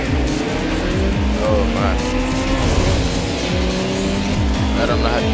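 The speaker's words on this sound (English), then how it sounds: "Drifting. You can drift your car around corners." Race car in Ridge Racer Driftopia drifting around corners, its engine revving loudly in repeated rising sweeps with a sustained tire squeal layered over it, while a person talks over the noise.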